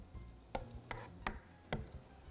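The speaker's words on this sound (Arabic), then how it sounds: "يعني هاي تقليبه سريعه للخضار" Vegetables and dried shiitake mushrooms are quickly stir-fried in a pan. Four distinct spatula scrapes and clacks fall over a faint, soft sizzle.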